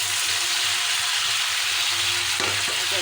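Cauliflower and salt sizzling in a hot pan, a dense continuous frying crackle up close with a few clinks and stirring knocks near the end, no talking.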